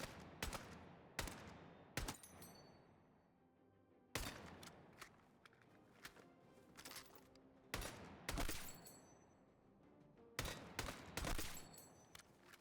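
DMR rifle shots in a video game crack out in single and paired bursts, each loud report followed by a fading echo, spaced irregularly across the clip.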